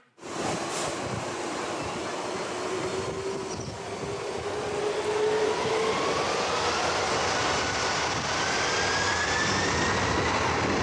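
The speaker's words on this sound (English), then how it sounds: "Jet blast of departing and arriving aircraft can cause severe physical harm, resulting in extreme bodily harm and/or death" Loud, continuous roar of jet aircraft departing and arriving over a beach, a broad rushing engine blast that holds steady and swells slightly, with a faint rising whine through it.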